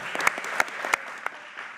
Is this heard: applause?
yes